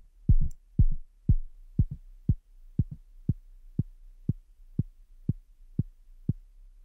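A synthesized kick drum hits about fourteen times at a steady pace, each thump short and punchy with a quick decay, played alone.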